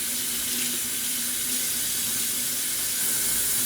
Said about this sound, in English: I gotta wash my dishes down.